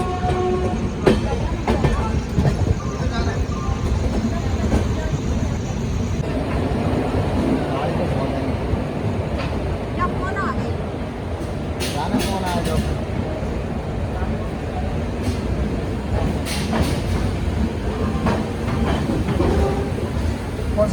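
Superfast express train arriving at Jhansi, heard from onboard as a continuous rail rumble with clicking wheels and faint horn bursts, people talking over it.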